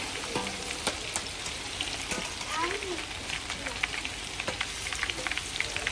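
Ginger garlic paste and garam masala with cinnamon, cloves and star anise frying in a pan, a steady close sizzle under repeated stirring scrapes and clicks of a utensil, with no talking.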